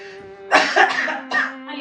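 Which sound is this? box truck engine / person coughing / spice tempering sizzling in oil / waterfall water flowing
person coughing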